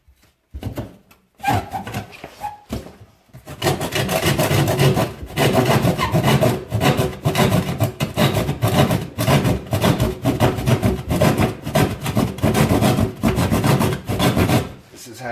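A knife saws through wood to cut a hole for sink plumbing, with a few scrapes at first and then steady, loud, rapid rasping strokes that continue to the end.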